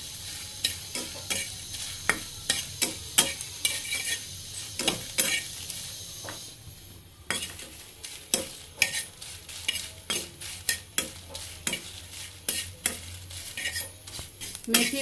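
Dried chilies fry in a pan under a continuous sizzle, while a utensil scrapes and clinks against the metal in quick, regular strokes throughout.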